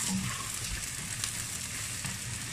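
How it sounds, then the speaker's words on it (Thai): Garlic frying in a pan over medium heat until golden, a steady close hiss and crackle of sizzling oil throughout with light stirring, no voices. "ใจเย็นๆนะจ๊ะให้กระเทียมหอมเหลืองก่อน"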